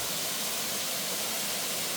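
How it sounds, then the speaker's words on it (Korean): Wibong waterfall, a two-tier fall dropping about 60 m down a rock cliff, gives a dense, even roar of falling water, broad and hissing, steady throughout with no voices. "바위 절벽으로 떨어지는 2단 폭포이다"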